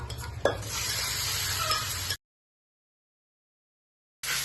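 Boiled elephant foot yam dropped into a hot frying pan for a yam fry, with close, steady scraping stirring and a loud sizzle for about two seconds, then silence before the sizzle briefly returns.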